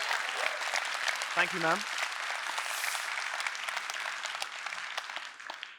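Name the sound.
audience applause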